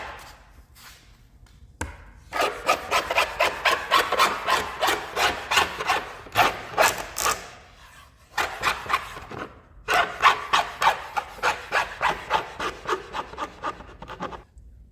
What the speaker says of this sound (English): When you're filing this backsplash, you want to file the flat part as close as you can to this